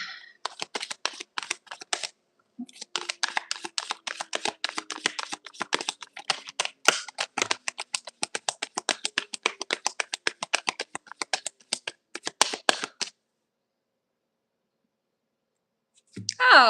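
A tarot deck shuffled in long bursts of rapid, crisp card riffles and clicks that run almost continuously for several seconds, with a short gap, then stopping before a voice begins at the end.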